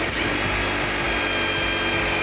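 A power drill with a 10.4 mm bit drills through 6 mm steel plate, running steadily and loudly throughout, a continuous high whine with a grinding, metallic edge and no pauses.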